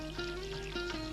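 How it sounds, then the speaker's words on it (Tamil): Water poured out for washing someone's hands, a steady close trickling stream running for just over a second in a quiet indoor setting. "எங்கேயோ ஊத்துறியே, பார்த்து ஊத்துமா"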